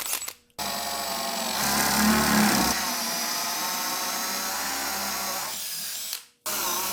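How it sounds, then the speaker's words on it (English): A 1 1/8 inch Forstner bit bores holes through a wooden arcade control panel, driven by a handheld power drill that whirs steadily for several seconds, with a brief stop at the start and spin-down near the end. "drill it with my 1 1/8 Forstner bit"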